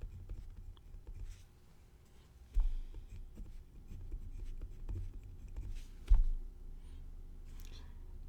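A pen scratches out math notation during a pre-calculus lesson: quiet, close scribbling strokes with two sharper taps on the writing surface, and no speech over it.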